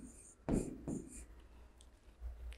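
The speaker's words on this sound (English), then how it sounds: "So we can write here green." A pen writes an answer on a grade 2 maths worksheet in a couple of quick scratchy strokes, close and quiet, followed by faint soft rustling.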